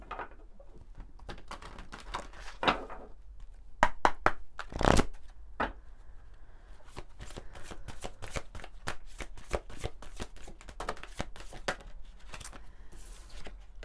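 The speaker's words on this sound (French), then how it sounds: "On va prendre une carte de l'oracle de la sagesse soufie." A deck of oracle cards of Sufi wisdom being shuffled by hand: crisp, close riffling and patting bursts in an irregular rhythm, soft overall, with a few louder slaps in the middle and no talk.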